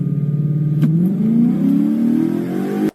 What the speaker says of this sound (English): So you can actually hear the motor kind of lug down